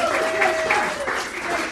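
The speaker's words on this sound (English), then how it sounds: "give a big round of applause to everyone who got up here." Audience applause at a storytelling game show, a steady wash of many hands clapping across the whole stretch, with some voices faintly mixed underneath.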